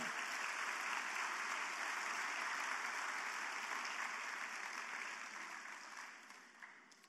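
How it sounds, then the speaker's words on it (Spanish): A church congregation gives a sustained round of applause in praise, a steady, fairly distant wash of clapping that slowly tapers off, heard faintly. "dale un aplauso de alabanza al Señor"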